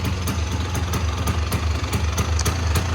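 A 1985 Honda ATC250R three-wheeler sits at a steady idle just after a single kick start, its low engine chugging continuously and evenly with light mechanical ticking on top, close and fairly loud, with no talking.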